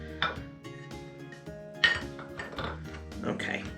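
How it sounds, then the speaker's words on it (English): Ingredients for a vegan green goddess dressing are tipped into a little bowl, giving a few light clinks and knocks of a utensil against dishware, close and fairly quiet, with short pauses between them. "I'm going to put this into one of these little bowls."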